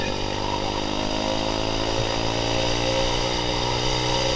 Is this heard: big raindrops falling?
no